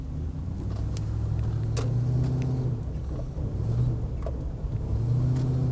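A Land Rover Defender 90 50th Anniversary drives along while changing down through the gears. Steady engine rumble rises and falls between shifts, heard close from inside the vehicle without talk.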